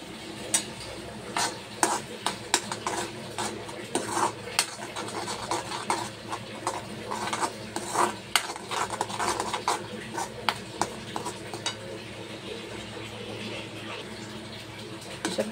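Spice masala with salt, turmeric and Kashmiri red chilli roasts in a pan for egg curry, with frequent clinking spoon scrapes against the pan and a faint sizzle in the background, close and busy.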